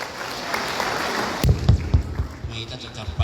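Crowd applause rings out at an Islamic haul memorial gathering of senior santri, a steady wash of clapping for about a second and a half before it breaks off and a voice begins speaking over it.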